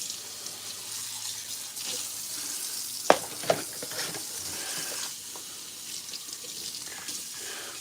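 Dishes being washed at a kitchen sink with steady running tap water, faint clinks and two sharp knocks of dishware partway through, continuous and close with no talking.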